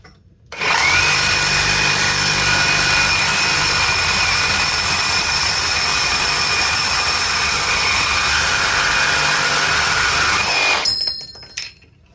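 A battery-powered Metabo HPT reciprocating saw cuts through 1.25 inch black iron pipe with a loud, steady, harsh rasping whine that runs unbroken for about ten seconds, then stops abruptly with a brief clatter.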